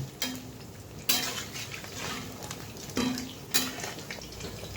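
Stuffed pointed gourds (kakrol pur) are turned one by one in a pan, giving several sharp clanks of utensil against metal over a low steady frying hiss, with no talking.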